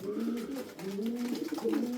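Racing homing pigeons coo in low, throaty rolling calls, several birds overlapping continuously at close range.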